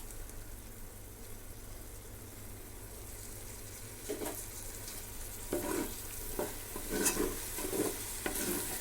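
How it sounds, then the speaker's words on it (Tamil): Ground coriander and mint paste fries with ginger-garlic in a pan for chicken biryani, a soft steady sizzle that grows busier toward the end with a few louder stirring scrapes. "இது ஒரு 2 மினிட்ஸ்க்கு நல்லா வதக்கி கொடுத்துக்கலாம்."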